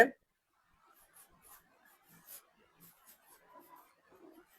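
A pen or pencil scratches faintly across paper while maths problems are worked out, in short, quiet strokes with brief pauses between them, after a sharp knock at the start.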